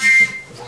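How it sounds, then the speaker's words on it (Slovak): A small folk whistle, a wooden pipe, gives one short, bright, steady tone, then a brief softer trailing sound. "Nebo taká píšťalka."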